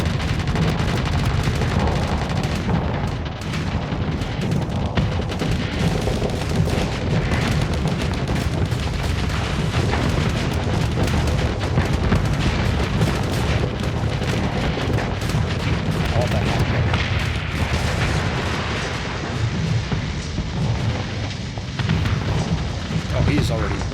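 Big guns firing in the space combat game Starsector, a dense continuous barrage of booming cannon fire and explosions, loud and unbroken throughout, with someone talking over it.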